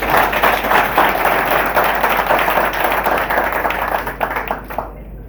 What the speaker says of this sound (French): Je voudrais que vous applaudissiez pour les remercier en notre nom à tous.